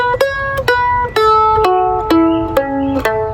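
Guitar plays the second bar of an ending in an intermediate-level lesson: a run of seven or eight clearly separated plucked notes with ringing harmonics, each attack sharp and close, no voice.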